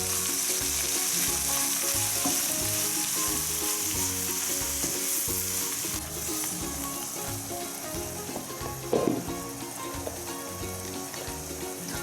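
Mushrooms frying in a pan for beef stroganoff give a steady, close sizzle with occasional stirring scrapes and a brief clatter near the end, no talking.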